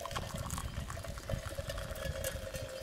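Boiled water from a Jetboil stove poured into a GSI Coffee Rocket dripper outdoors, a continuous close trickle and gurgle with a faint tonal hum underneath.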